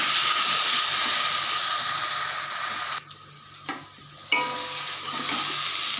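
Taro leaves cooking with a fish head and a little sugar in a pan give off a steady sizzle while being stirred, with a few sharper scrapes and clinks in a brief quieter stretch.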